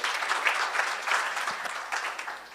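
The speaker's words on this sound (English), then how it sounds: "A round of applause for Dr. Dare." Audience applauding at a surgical society's annual scientific conference in Kenya: a dense, sustained clapping from a room full of people, loud and steady, fading slightly toward the end.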